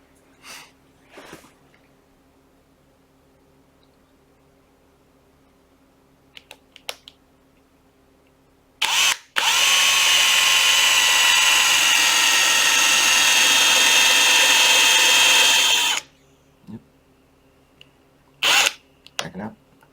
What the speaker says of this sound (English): just put your drill bit all the way through.